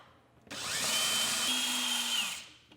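A power drill backing Phillips screws out of a Samsung freezer panel, a single close, steady high whine that runs about two seconds and shifts slightly in pitch near the end before spinning down.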